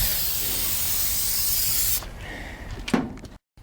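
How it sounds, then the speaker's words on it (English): Silicone lubricant sprays steadily onto a Hayward SwimClear cartridge filter O-ring, a loud continuous hiss for about two seconds, then short spurts and handling clatter before silence. "I'm going to spray it really good with the silicone"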